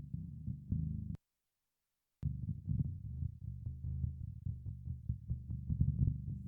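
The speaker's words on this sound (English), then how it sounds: "that's 2 octaves lower" A low-tuned electric guitar played through an octave effect set two octaves down gives deep, throbbing low notes in short repeated bursts, broken by a brief silence.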